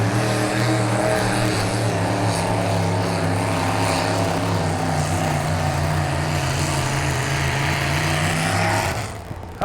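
A Dustbuster mini tractor's engine drones loud and steady at a tractor pull competition, holding a constant throaty roar for several seconds before cutting off abruptly at the end.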